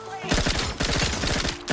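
Rapid automatic gunfire from The Outer Worlds 2 rattles out in dense bursts, loud and close, broken by a short pause midway and mixed with a voice.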